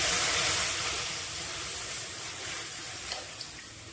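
Milk pours into a cooking pan in a home kitchen, a steady close hiss and trickle of liquid running for several seconds without pause, with no voices over it.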